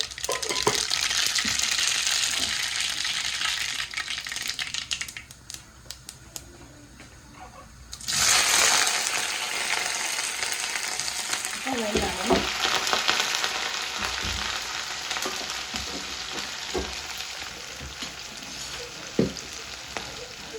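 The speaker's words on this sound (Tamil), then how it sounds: "சட்டி சூடாயிட்டு இப்போ நான் கடுகு சேர்க்க போகிறேன்" Mustard seeds fry in a hot pan, a dense continuous sizzle that briefly drops then surges loudly again, with scattered popping crackles and occasional clinks throughout, no voices.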